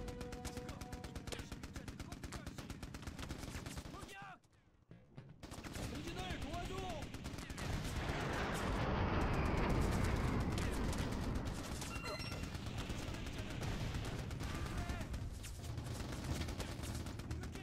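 Rapid automatic machine gun fire rattles on in the PC game Mercenaries: Playground of Destruction, a dense stream of shots that briefly cuts out near the start, then resumes and swells with heavier blasts.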